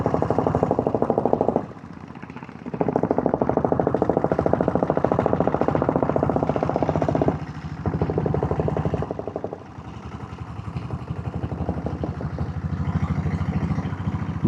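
A diesel Royal Enfield Bullet motorcycle labours uphill in first gear on a steep hill road, its engine a loud, continuous thumping rumble with a couple of brief dips in power.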